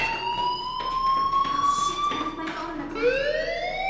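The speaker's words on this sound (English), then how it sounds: "do you hear that fire alarm? That means you should be outside." A school fire alarm in the video game Life is Strange sounds as a rising, wailing electronic siren tone with harmonics, sweeping upward and repeating, loud and close over a few seconds.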